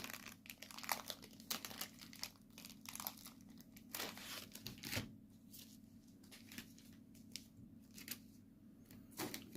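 A plastic card sleeve being handled for a numbered trading card: close, quiet crinkling and rustling in irregular bursts, with a few sharper crackles, no talking.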